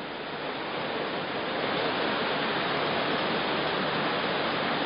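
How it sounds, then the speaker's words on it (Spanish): Heavy rain pours steadily during a storm in Huelva, a dense, even hiss of falling water that holds at constant volume throughout, with no voices. "Escuchaba un segundo el sonido de la lluvia."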